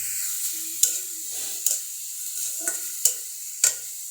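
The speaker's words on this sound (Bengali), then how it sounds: "আরও কিছু মটরশুঁটি দেওয়া হইলো।" Peas sizzle in a frying pan as a utensil stirs them, a soft steady hiss punctuated by five sharp clacks of the spoon against the pan at roughly regular intervals, with no talking.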